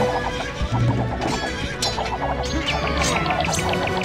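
Horses in Age of Empires 2 whinny and snort repeatedly amid a busy, dense game soundscape. The calls are loud and layered over constant clatter and rhythmic background noise, with no talking.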